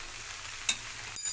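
Mutton frying in a pan with salt, a soft steady sizzle with a single stirring tap, brief and close.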